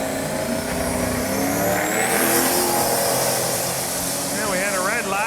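1979 Pontiac Firebird doing a combo burnout, engine revving hard and loud with rising and wavering pitch amid crowd noise, a voice talking over it.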